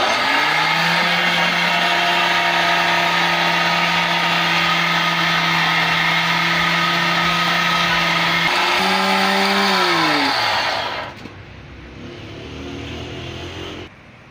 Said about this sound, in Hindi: ये इसे हम थोड़ा सा और ग्राइंड करेंगे